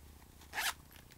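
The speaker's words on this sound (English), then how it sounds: "It's got a working zipper." A working zipper on a small, fully lined triangle fabric pouch gives one quick, soft zip, alone and fairly quiet.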